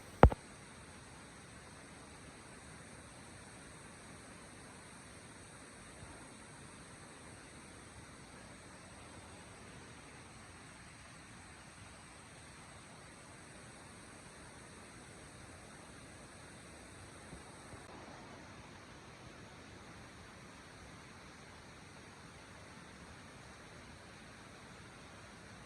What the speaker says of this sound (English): Here is our fifth sliding waterfall. Enjoy the satisfactory nature sounds.